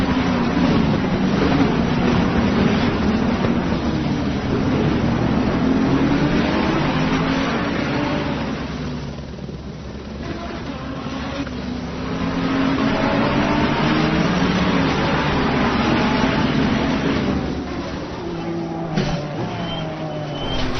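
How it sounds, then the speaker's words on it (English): Honda NSX race car in a racing video game, its engine droning steadily and loud throughout while accelerating, with a brief dip in level midway before the revving builds again. "the NSX has good acceleration and comes off the corners well"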